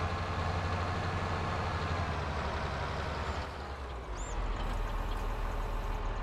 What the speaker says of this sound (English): Come on, tractor, let's back up.